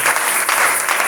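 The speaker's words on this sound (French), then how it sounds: "Nous acclamons pour le Seigneur." Brisk, continuous applause from a church congregation, a dense, even wash of many hands clapping close by for about a second.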